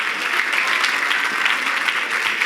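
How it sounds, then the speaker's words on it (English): Audience applause at a gala fills the room, a dense, steady wash of many hands clapping close by without letup, no voices rising above it. "Big round of applause for Rita."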